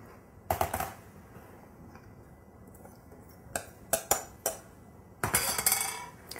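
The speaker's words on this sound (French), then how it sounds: "On va maintenant le mélanger à l'aide d'un fouet." A whisk beating brownie batter in a bowl, rattling metallic clinks in short bursts then a longer run of scraping strokes, close and alone.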